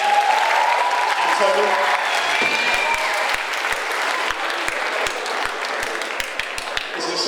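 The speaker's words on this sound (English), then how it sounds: "Please give a round of applause to the staff band" An audience at a school's end-of-year assembly gives loud, sustained applause that fills the hall, with a few sharp taps standing out late, and a voice is heard over it at the start.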